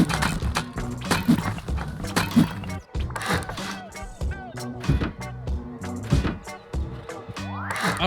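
Horse in the video game Rust, hooves clip-clopping in a steady rhythm with occasional whinny-like cries over a layered game soundscape at moderate level.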